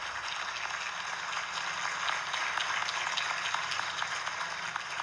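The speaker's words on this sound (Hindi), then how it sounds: "एक बार जोरदार ताली बजा दिए, जोरदार ताली बजाई" An indoor audience claps for a speaker at a seminar, with steady, moderately distant applause of many hands that continues without a break and no voices over it.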